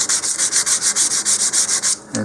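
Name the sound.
sanding model rocket nose cone seam with sandpaper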